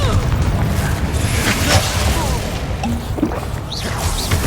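Confringo explosive curse blasting in Hogwarts Legacy, a booming crash amid busy spell combat with whooshes and clattering impacts, loud and close.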